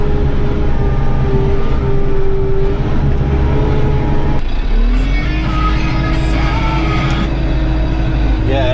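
A truck in four-wheel drive rolls downhill over hilly rural land, its engine droning steadily up close with a shift in pitch midway as it climbs in revs, and a voice talking over it.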